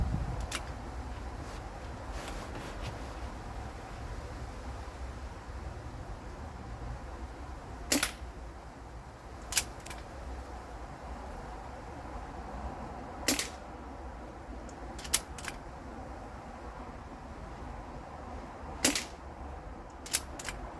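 Webley VMX .22 air pistol fired with a folding shoulder stock, sharp distinct shots spaced a few seconds apart over a steady background hiss, around six or seven cracks in total.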